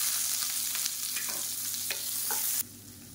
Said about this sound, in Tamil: இப்போ வெங்காயம் லேசாக வதங்க ஆரம்பிச்சிருச்சு.